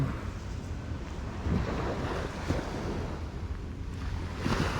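Sea waves roll onto a rainy beach at Pattaya in a continuous wash of surf. Gusts of wind buffet the microphone, and no one speaks.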